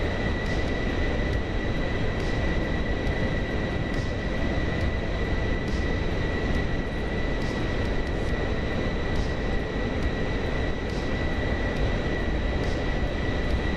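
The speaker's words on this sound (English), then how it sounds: "Now we can hear it now, the airplane." Steady, loud jet engine roar from a Pilatus PC-24 business jet in Microsoft Flight Simulator 2024, a continuous broadband rush with a constant high whine, unbroken and without talk.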